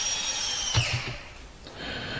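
Power drill driving 2.5-inch deck screws through a leg into a wooden shelf for a honey extractor stand: a short whirring burst with a brief bite and thump, close and fairly quiet.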